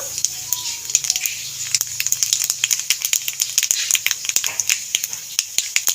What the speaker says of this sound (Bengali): গরম তেলের মধ্যে কালো জিরে দিয়ে দেবো